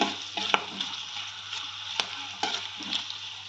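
Dal fries in a pan with a soft, steady sizzle, punctuated by several sharp spoon scrapes and taps against the pan, fairly quiet and close.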